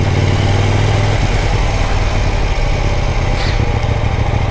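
A KTM Duke 790 motorcycle engine while riding through Manila traffic gives a loud, close, steady drone with a deep throbbing low end that holds throughout.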